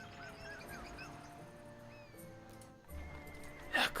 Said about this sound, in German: Das sind virtuelle Pferde.